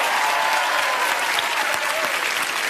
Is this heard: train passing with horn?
no